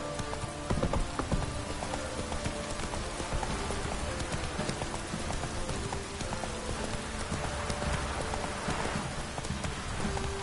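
Roach, the horse in The Witcher 3, trots with rhythmic clip-clopping hooves, steady and close over a dense game soundscape of ambient noise, with no speech.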